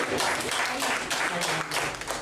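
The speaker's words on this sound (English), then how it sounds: "Give a round of applause for that." An audience at a panel discussion claps in steady, dense applause that fills the whole stretch, loud and close, with no voices over it.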